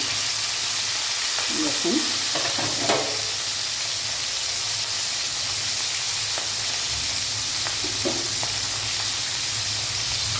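Fish sizzling and frying in hot oil for a Bengali fish curry, a steady loud hiss throughout with occasional stirring clatter and a brief spoken word.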